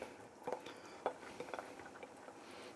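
Chopped prawn cutlets are stirred into a pot of chicken stock risotto, making faint, soft scrapes and light clicks of a spoon against the pot over a quiet bubbling background.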